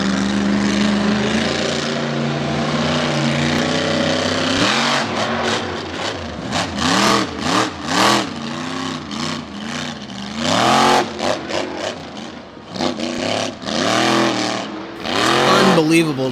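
Monster trucks racing at Lake Erie Speedway, engines roaring and revving in repeated rising and falling surges, loud and close, with an announcer's voice heard over the noise.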